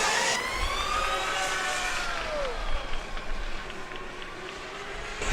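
Cooling fans on a Formula Student race car at an endurance event whine in smooth, gliding tones that rise and fall like a melody, moderately loud with no talk.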